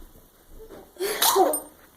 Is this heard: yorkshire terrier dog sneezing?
yes